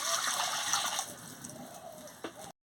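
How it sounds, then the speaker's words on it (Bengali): Water runs steadily into a cooking pot set on a lit stove, a continuous rushing pour that eases off, followed by a brief knock before it cuts out. "জলটা দিয়ে দিচ্ছি।"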